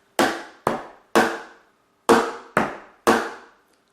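A Crisco pan tapped as a homemade drum gives six sharp, ringing hits in two groups of three, each decaying quickly, with no talk.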